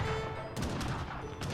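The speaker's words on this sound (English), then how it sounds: "Oh snap, cannons." Cannons firing in the real-time strategy game Age of Empires III, a burst of several booming shots in quick succession over a busy battle soundscape, fairly loud throughout.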